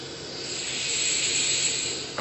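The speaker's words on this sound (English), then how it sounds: "that's the sound of precision ball bearings" Precision ball bearings in a free-spinning, non-returning yo-yo give off a continuous smooth, airy hiss that swells slightly and then eases, close and steady.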